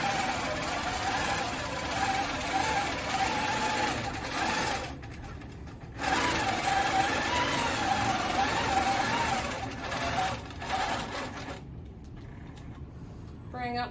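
A sewing machine stitches through an old antique quilt, running in steady stretches of loud mechanical whirring with brief pauses in between.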